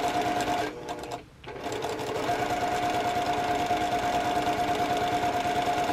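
Sewing machine stitches a quarter-inch seam on quilt blocks with a steady, close motor whir and rapid needle chatter, briefly slowing and pausing before running on continuously; no talking.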